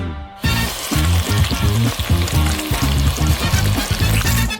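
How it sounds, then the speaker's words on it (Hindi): A kitchen mixer blends curd cheese and chocolate in a bowl, a loud continuous whirring and churning that runs without pause after a brief quiet start. "और अब मैं उसमें चॉकलेट डालूंगी और मिक्सर के साथ सब कुछ अच्छी तरह से मिलाऊंगी।"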